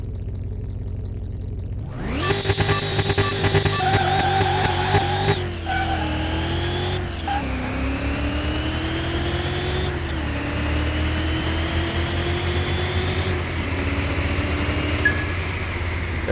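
A drag-race car in Car Mechanic Simulator 21 launches and accelerates hard, engine roaring and rising in pitch through several gear changes, with a brief tire squeal at the start, loud and close with no talking.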